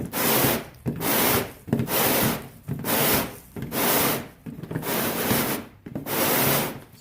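Back-and-forth rasping strokes file or sand a plastic kayak hatch ring, about eight steady, loud, close strokes with brief pauses between them and no talking.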